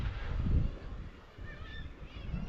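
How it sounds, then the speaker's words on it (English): Seagulls calling along a rocky inlet coastline, a few faint distant honking cries over low wind and surf. "Sure you can hear the seagulls there."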